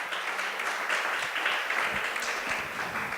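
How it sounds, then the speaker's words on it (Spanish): A church congregation claps together in steady, fairly faint applause filling the room, with no speech over it. "Denle un aplauso al Señor."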